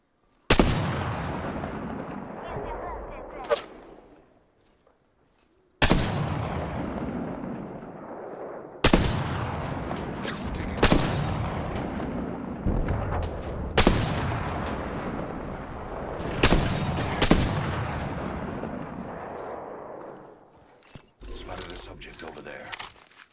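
Gunfire in the video game Apex Legends: loud sharp bursts of shots in several separate volleys, each decaying into rumble, with a short gap of silence early on and a busier stretch of mixed effects at the end.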